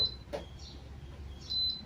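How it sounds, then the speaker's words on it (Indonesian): A Bolde rice cooker gives short electronic E4 error beeps from a faulty power supply module, a quick chirp followed by a longer, high-pitched tone, in an otherwise quiet room. "Dia langsung bunyi bip error E4."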